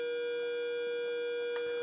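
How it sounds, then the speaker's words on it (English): Racing car engine note from the game Revs on a BBC Model B computer, a steady, flat electronic drone holding one pitch, faint and unchanging, with a tiny click near the end. "Oh, listen to that engine note."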